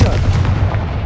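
A Confringo fire spell bursts in the Hogwarts Legacy video game, a single loud, close booming blast that rumbles briefly with a heavy low-end thud, with no talking.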